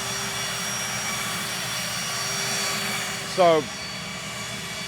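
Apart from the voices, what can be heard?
private jet engine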